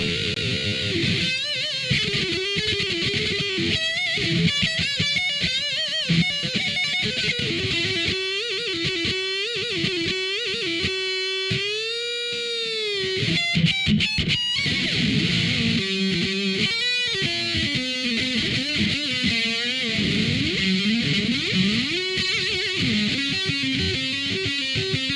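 A distorted electric guitar plays a long, expressive solo with bends and sustained notes, loud and continuous, with no voices.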